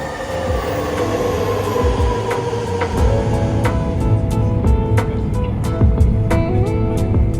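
A steady, loud rumble inside a bullet train bound for Hokkaido, with continuous low roar and occasional sharp clicks and rattles over the tracks.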